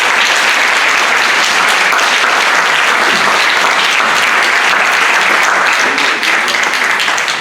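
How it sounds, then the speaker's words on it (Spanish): Loud, sustained applause from an audience at an academic panel on contemporary audiovisual art, a dense continuous wash of clapping throughout. "Le damos un aplauso"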